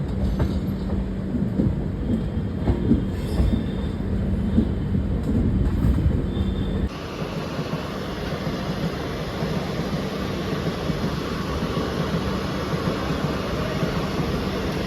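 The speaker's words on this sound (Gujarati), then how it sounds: "આ પાટા ઉપર આવી જઈ ટ્રેન બીજા પાટા ઉપર હતી ટ્રેન એમાંથી આ પાટા ઉપર આવી જઈ." A passenger train rolling along rail tracks and crossing over points from one track to another, a steady loud rumble with rattling wheel noise throughout, the tone shifting partway as it changes tracks; no talking.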